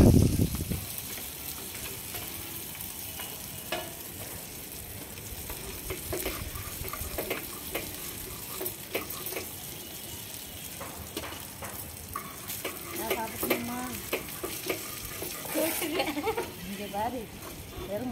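Fish frying in a pan on a rooftop in a village, a steady sizzle with clinks of stirring, and people talking over it throughout.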